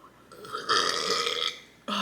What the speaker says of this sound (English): it literally don't take me long at all to burp